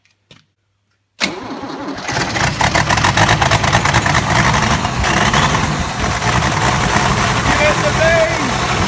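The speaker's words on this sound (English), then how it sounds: "is going to be the very first startup with the turbo fully installed" Turbo diesel rally truck with a newly installed turbo cranking and firing up after silence, then settling into a loud, steady, close-up running clatter.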